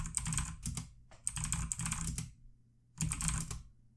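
Keys clatter in quick bursts as a password is typed on a computer keyboard, three separate runs of close, crisp taps with short pauses between them, no voices.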